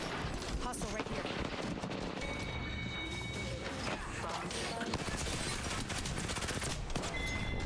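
Rapid bursts of gunfire crackle in a shooter video game, dense and continuous over a busy, noisy background, heard at a moderate level with a voice now and then beneath it.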